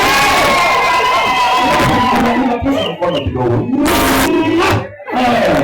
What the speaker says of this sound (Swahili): Shangilia, shangilia, vigelegele.